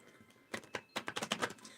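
Tarot cards are shuffled in a quick burst of crisp, rapid riffling clicks that come close and loud after a brief quiet start.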